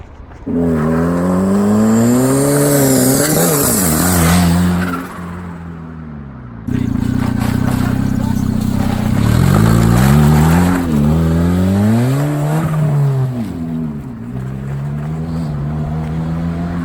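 A turbocharged D15 Honda Civic hatch with a compound setup of a small Saab turbo and a giant HX55 revs loudly and close, its engine tone rising and falling through several sweeping pulls with a short drop between bursts.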